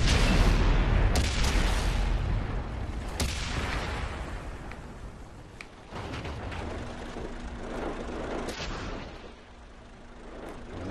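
Tank cannon fire in World of Tanks with E100 heavy tanks in play: several loud booming shots and mechanical reload clanks over a steady engine rumble, no talk.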